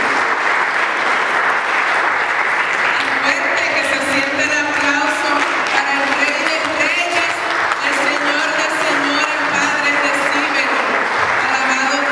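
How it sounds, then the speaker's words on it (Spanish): A large crowd at a church faith seminar applauds steadily and loudly for the whole stretch, a dense wash of clapping with faint voices mixed in. "Le damos un fuerte aplauso a la palabra de Dios."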